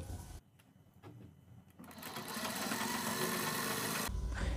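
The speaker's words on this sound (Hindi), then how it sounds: "जैसे हमने बीच में सिलाई लगाई है इसी प्रकार से हम अपने पैटर्न में भी और स्लीव्स में भी सिलाई लगाएंगे।" A sewing machine stitches the sleeves and pattern of a kurti, starting after a quiet pause and then running as a steady, fairly faint whir to the end.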